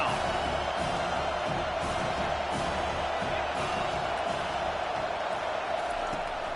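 A home stadium crowd in College Football 25 roars steadily as the defense faces third down, a dense, continuous wall of cheering and noise that holds at a loud level throughout.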